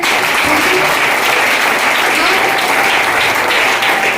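Loud, sustained applause from an audience at a business success event, dense and continuous clapping filling the room throughout.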